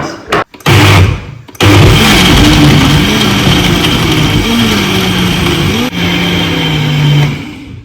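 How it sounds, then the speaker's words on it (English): A kitchen blender whirs steadily as it purees soaked beans, bell peppers and onions with a little water for Nigerian moi moi, its loud motor hum rising and dipping in pitch after a couple of short starts. "We cover it up and blend."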